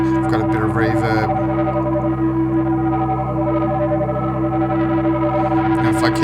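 A Eurorack modular synth feeds back into a sustained, reverb-soaked drone with steady harmonic tones and shifting distorted overtones, loud and continuous, with brief spoken moments near the start and end.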